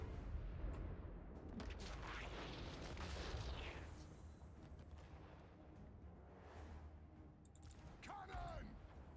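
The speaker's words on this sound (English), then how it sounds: "Cannon!" Cannons boom in the battle video game Total War: Warhammer III, with deep rumbling blasts and explosions rolling under game music and voices, and a brief ring near the end.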